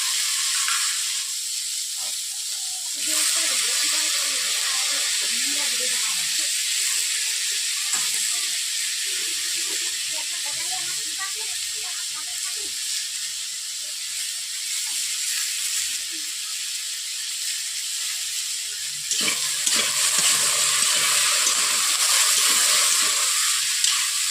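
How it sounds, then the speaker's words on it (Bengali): Mixed vegetables sizzle loudly in a hot pan as they are stirred, a steady bright hiss with occasional scraping and clinking of the spatula, growing louder near the end. "সবজিগুলোকে দেওয়ার পর এইভাবে আমি নেড়ে নিচ্ছি।"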